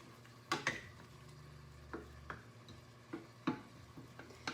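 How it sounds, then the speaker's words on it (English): A spoon stirs cauliflower risotto with bone broth in a pot, giving a few scattered scrapes and clinks over a faint low simmer, quiet and close with no voices. "Stir everything together."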